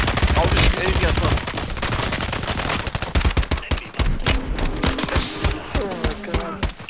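Loud, dense automatic fire in a shooter game, with rapid overlapping shots and clinks close up, a voice talking briefly over the chaos.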